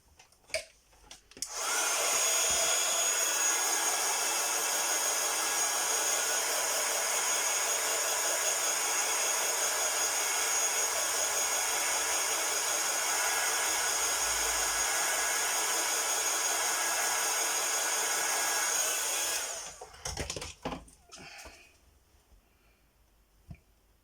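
A hair dryer runs steadily for about seventeen seconds, drying colored artwork on small painted cards. It is a loud, even whoosh that starts abruptly and cuts off near the end, with quiet clicks and handling noises before and after.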